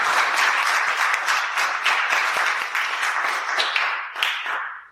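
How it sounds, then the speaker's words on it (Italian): Sustained applause from a conference audience, dense and steady clapping throughout, loud and close, tapering slightly toward the end. "un grandissimo applauso"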